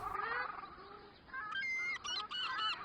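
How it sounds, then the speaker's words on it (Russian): Waterfowl on Lake Dzhulukul honk in a goose-like chorus, faint and somewhat distant, with a few separate bursts of calls following a brief opening cry. "В летнее время воды Джулукуля привлекают огромное количество водоплавающих птиц."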